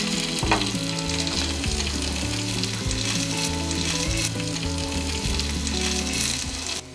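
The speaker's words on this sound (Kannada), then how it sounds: "ನಾನು ಇಲ್ಲಿ ಶಾಲು ಫ್ರೈ ಮಾಡ್ತಾ ಇದ್ದೀನಿ." Paneer shallow frying on a hot tawa, giving a steady, loud, close sizzle with occasional stirring clinks throughout and no voices.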